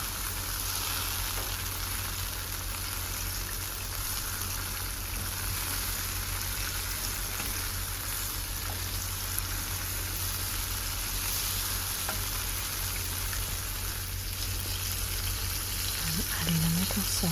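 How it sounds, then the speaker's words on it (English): Food sautés in a pan in a small kitchen with a vent fan running, a steady soft sizzle over a constant low hum, continuous and close. "Nice little saute."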